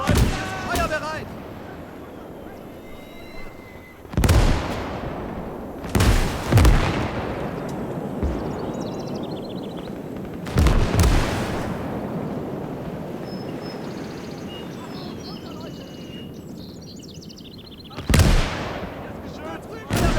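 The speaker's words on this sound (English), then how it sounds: "Mortars are doing a stonking job of degrading that second line" Mortar and artillery rounds from the Gates of Hell battlefield fire and land in heavy, booming blasts spaced a few seconds apart, each rolling off into rumbling echo, with soldiers' voices shouting faintly in between.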